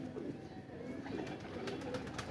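A flying pigeon held in the hand coos softly and closely in low, murmuring bursts over faint background noise.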